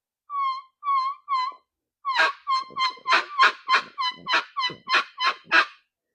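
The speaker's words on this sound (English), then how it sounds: "So this that I'm playing is actually the next version of our turkey reel" Mouth reed turkey call played as three spaced yelps, then a quick run of about a dozen sharper, louder yelping notes, close and clear with no talking.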